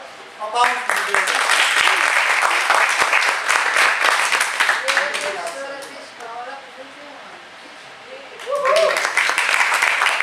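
Audience applause in a theatre during a school play presentation, a dense burst of clapping that fades in the middle while voices and cheers rise, then a fresh wave of clapping swells near the end.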